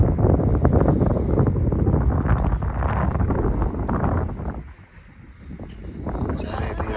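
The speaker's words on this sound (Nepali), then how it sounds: "हावा चाहिँ यस्तो दामी हावा आइरहेछ" Strong wind buffeting the microphone on a hilltop among mountains, a continuous rough, gusting roar that briefly eases midway before picking up again, with no clear talk.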